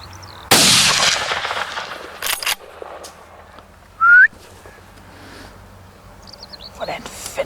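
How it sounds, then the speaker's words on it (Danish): A single sharp, loud gunshot rings out during a fox hunt in North Zealand, followed by a brief sharp echo-like burst, with outdoor ambience, faint bird calls and a voice speaking nearby. "Hvordan fanden må du skyde forbi den?"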